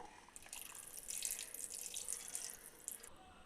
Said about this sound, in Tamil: புளி தண்ணி சேர்க்கலாங்க.